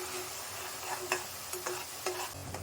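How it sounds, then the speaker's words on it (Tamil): Semolina mixture stirred in a pan while sugar syrup is poured in a little at a time for rava burfi, giving a soft continuous scraping with light ticking spoon strokes and faint sizzle, close and steady without talk. "கொஞ்சம் கொஞ்சமாக பாவு ஊற்றி நல்லா மிக்ஸ் பண்ணி"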